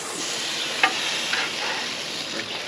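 Cinnamon buns sizzling in butter on a hot grill, a steady bright hiss and crackle with a few small pops and scrapes, close and continuous without any voices.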